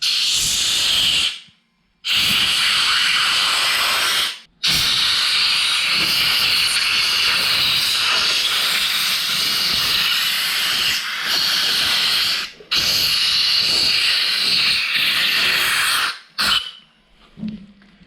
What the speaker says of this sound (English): I've seen people do this before with compressed air.